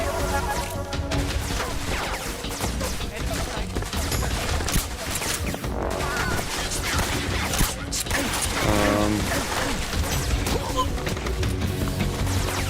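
Metal Gear Solid 3: Snake Eater gameplay with continuous gunfire, impacts and crashing action sounds in a dense, steady mix, with a person talking throughout.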